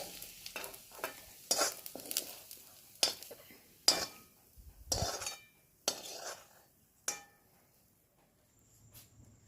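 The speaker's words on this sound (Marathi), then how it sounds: "कांद्यासोबतच दीड ते दोन मिनटं चांगलं खरपूस होईपर्यंत परतून घेणार आहोत" A spatula scrapes and taps against a pan in uneven strokes while onions sizzle faintly underneath, browning for a Saoji chicken curry; close and fairly quiet.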